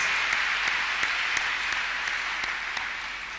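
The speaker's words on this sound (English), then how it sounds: "Let's clap unto God and appreciate him" A church congregation claps together during a Thursday counselling and deliverance service, dense steady applause filling the room with sharp accented beats, loud and continuous with no talking.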